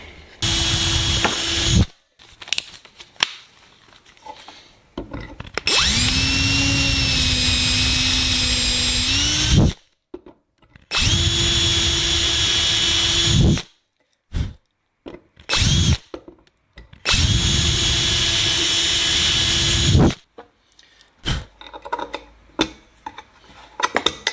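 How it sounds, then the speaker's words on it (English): A power drill whines in several long bursts while boring a hole in an aircraft rear spar carry-through, its pitch steady then shifting, with short pauses and clicks between runs. "drill it center to center here so I get exactly where I want it to be"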